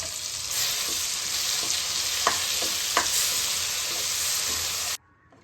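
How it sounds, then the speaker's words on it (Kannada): Tamarind and green chilli paste with salt sizzles steadily in hot oil in a pan, a continuous close frying hiss punctuated by a few soft spoon scrapes as it is mixed, cutting off abruptly near the end. "ಹುಣಸೆಕಾಯಿ ಮತ್ತು ಹಸಿಮೆಣ್ಸಿಕಾಯಿ ಉಪ್ಪು ಆ ಪೇಸ್ಟ್ ಹಾಕಿ ಎಲ್ಲ ಒಂದ್ಸರಿ ಈ ಥರ ಮಿಕ್ಸ್ ಮಾಡೋಣ"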